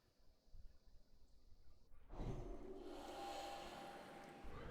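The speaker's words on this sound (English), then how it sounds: "excuse me, I had to yawn" A single drawn-out yawn with a breathy, rushing exhale, quiet and close, with no talking over it.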